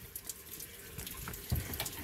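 Water splashes and trickles from the exhaust of a Toyota 2AZ engine in a jetboat on a river, a steady running-water sound with a brief louder gush near the end.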